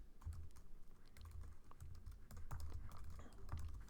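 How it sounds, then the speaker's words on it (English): Java code is typed on a computer keyboard, giving quick, close key clicks in uneven bursts with a few louder thumps, like the space bar, and no talking. "So I'm going to type in a system.out.print"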